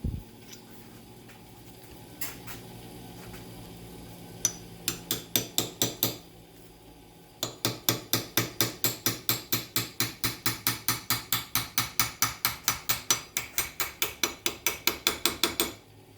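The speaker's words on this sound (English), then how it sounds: "Sharp cold chisel." A hammer drives a sharp cold chisel to cut a brass ring free from a part in a forge build. A few scattered metallic strikes give way to long runs of rapid, evenly spaced, ringing blows, close and loud with no talking.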